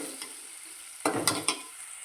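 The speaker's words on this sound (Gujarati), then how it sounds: "મિક્સ કરી લઈશું ડુંગળીનો કલર બદલાય ત્યાં સુધી રહેવા દઈશું" Onions frying and being stirred in a pan while cooking a Gujarati baingan oleo: a low steady sizzle, then three sharp scraping stirs clustered near the middle, no voices.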